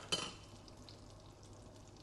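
Bay leaves, cardamom and cloves fry in a pan, opening with a single sharp clink of utensil on metal, then settling into a faint, steady sizzle with no talking.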